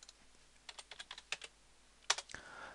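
Commands are typed on a computer keyboard while a Cisco ASA is being configured: a short run of crisp, close key taps, ending in one louder clack and a brief rustle, with no one talking.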